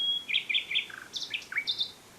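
A nightingale sings a quick, varied phrase of repeated high chirps and whistled slurs, clear and fairly close, alone against a quiet background.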